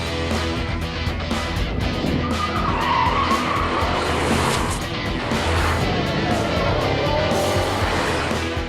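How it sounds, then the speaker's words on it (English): A BMW 650 Cabrio convertible is driven hard, its engine roaring steadily with squealing tires as it skids through corners, loud and close throughout with no talk. "This is the BMW 650 Cabrio."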